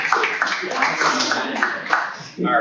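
Office audience clapping for a volunteer at a corporate magic show in New York City, a brisk close round of applause that ends abruptly as a voice begins speaking.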